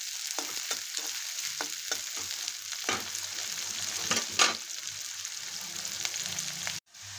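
A ginger, garlic, coconut and coriander paste sautés in a pan with browned onion, sizzling steadily and close, while a spoon scrapes and taps the pan several times. The sizzle cuts off abruptly near the end.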